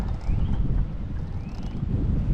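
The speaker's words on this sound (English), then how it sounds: "It is super windy today." Strong spring wind buffeting a camera microphone on a fishing outing in South Carolina, a steady low roaring rumble that fills the whole stretch without pause, with no talking.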